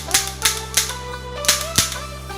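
A Sig Sauer P226 BB pistol's double-action mechanism clicks sharply five times at uneven intervals, close and crisp, with a faint steady hum underneath.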